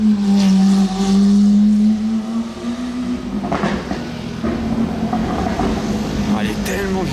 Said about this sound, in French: cette Aventador SV, elle a un échappement pas du tout d'origine, elle fait un gros bruit.